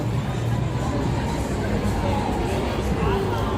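Dense crowd hubbub fills a busy Las Vegas street on a Saturday night, a constant close wash of overlapping voices and footsteps with indistinct chatter throughout.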